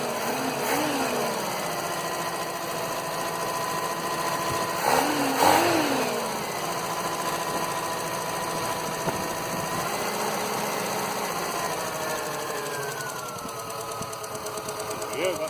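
Dacia engine running after a carburettor swap with electronic ignition and an unsecured fuel pump rattling, a steady mid-pitched idle with brief revs near the start and a persistent loose clatter, with talk over it.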